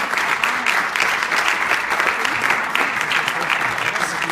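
A crowd at a Relay For Life cancer fundraiser event applauds steadily, with dense continuous clapping that holds at an even level from start to finish.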